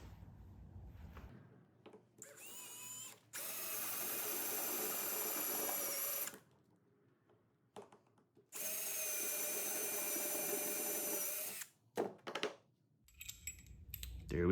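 Power drill enlarging bolt holes while building a fireworks staging board, two long steady whirring runs of a few seconds each, close and fairly loud, separated by quiet handling clicks and taps.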